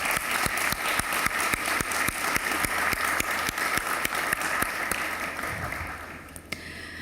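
An audience claps on request in thanks for support, a steady wash of applause broken by regular sharp clicks, holding level for several seconds before thinning out near the end.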